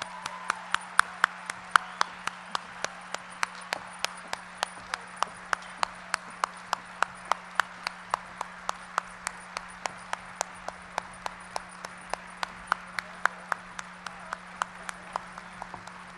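An audience at a spring benefit event claps to welcome college students: an even, steady beat of single claps sustained for about sixteen seconds over a low constant hum, moderately loud.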